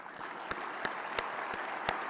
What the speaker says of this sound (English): Will you also join me in a round of applause to thank them?